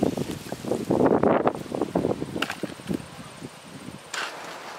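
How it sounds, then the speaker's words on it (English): Wind gusts across the microphone outdoors in a potato garden, a rough, uneven rumble that swells and fades over several seconds. "Try to get out of the wind here a little bit."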